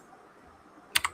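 Quick keystrokes on a computer keyboard, three crisp clicks in rapid succession close to the mic after a near-silent stretch.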